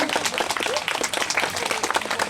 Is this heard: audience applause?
yes